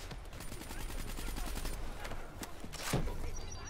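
Rapid automatic gunfire in the Black Ops 3 campaign of the video game, a steady stream of evenly spaced shots followed by a louder, heavier blast near the end, with faint voices underneath.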